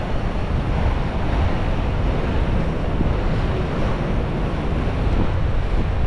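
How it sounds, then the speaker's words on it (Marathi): Sea waves surge and crash against coastal rocks on a Konkan beach at Guhagar, a loud continuous roar of surf and spray mixed with wind buffeting the microphone. "हे पाणी इकडे येतं आहे आणि ही जी हाईट दिसते तुम्हाला, या हाईटवरनं पूर्ण वरती पाणी उडतं आहे"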